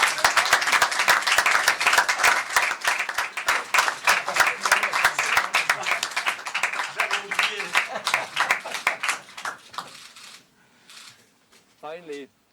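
A small group in a mission control room bursts into quick, close applause after the Solar Impulse solar-powered airplane takes off from Hawaii, the clapping thinning out and stopping as voices speak.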